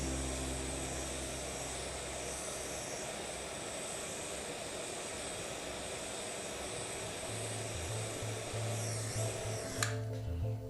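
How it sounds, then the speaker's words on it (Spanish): A jeweler's torch melts solder inside a ring band with a steady, close, roaring hiss that holds unbroken throughout, joined near the end by a low hum. "Aquí voy a fundir la soldadura que me quede instalada en el interior del fleje."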